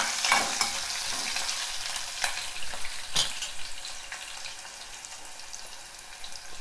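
Finely chopped ginger frying in hot oil in a pan for millet khichdi, a steady close sizzle with occasional stirring scrapes and no voices.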